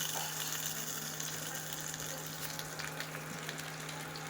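Potatoes and capsicum frying together in oil in a pan, a steady, continuous sizzle with a faint watery hiss that holds at an even, moderate level throughout.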